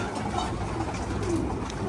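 Pigeons cooing softly nearby, low throaty coos repeating over a steady background hum.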